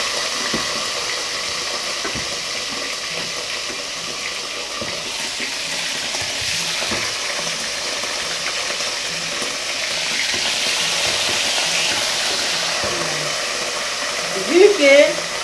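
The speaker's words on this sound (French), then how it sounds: "Donc on va faire cuire notre viande." Beef frying in very hot oil, a loud, steady sizzle with ongoing stirring close by that holds evenly throughout, and a brief clatter near the end.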